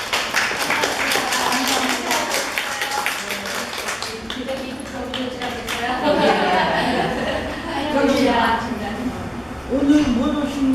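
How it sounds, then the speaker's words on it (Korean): Applause from a women's literary club gathering greets a first-time attendee: a burst of clapping over the first few seconds, then chatter and light laughter from the group carrying on underneath. "처음 오셨어요. 박수."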